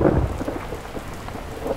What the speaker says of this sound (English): Look, it's getting stormy out.